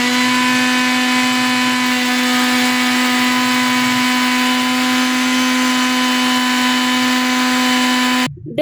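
A blender coarsely grinds pakora masala spices with a loud, steady motor whir that runs unbroken for about eight seconds and then cuts off abruptly. No one speaks.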